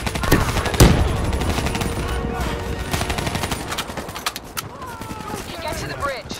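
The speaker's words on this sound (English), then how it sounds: "Give me some cover fire." Gunfire in the Black Ops 3 video game co-op campaign, bursts of rapid automatic fire and scattered shots over battlefield noise, with a voice speaking briefly over the action.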